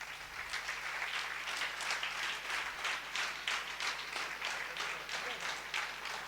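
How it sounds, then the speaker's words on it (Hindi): Audience applause at a live Hindi poetry recital (kavi sammelan) in Hamirgarh, steady dense clapping sustained throughout at moderate distance, no speech over it. "एक बार ताली बजाकर इजाजत दे दें।"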